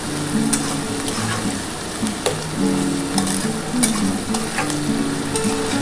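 Sliced flat beans, potatoes and cauliflower stalks sizzle steadily in a pan while being stirred, with crisp scraping strokes and clinks of the spatula recurring throughout. The frying is close and continuous, and no one speaks.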